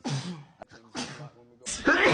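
Several short, explosive sneezes in quick succession, each a sharp burst of breath and voice, close and fairly quiet, separated by brief pauses.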